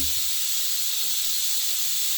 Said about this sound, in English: So we're letting out the steam as we speak.